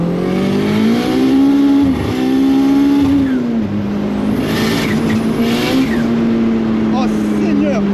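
A Citroën Saxo VTS turbo with over 500 horsepower, a sleeper build, revs hard and holds high to heat its tyres, a loud, close, sustained engine drone with brief dips in pitch and some tyre squeal.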